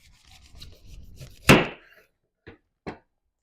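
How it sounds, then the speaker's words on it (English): A knife chopping the top off a pineapple: scraping and rubbing, then one sharp cutting crunch followed by two lighter knocks, close and fairly quiet with no voices. "After picking a really good pineapple, I'm going to go ahead and chop off the top."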